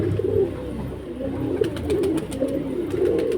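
Baby pigeons coo softly and continuously nearby, low murmuring calls with some faint clicking and shuffling in the background.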